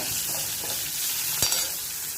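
Ginger and green chilies are stir-fried with curry leaves in a pan for a cabbage, carrot and pea curry, giving a steady loud sizzle of hot oil and one brief clink of the stirring utensil partway through.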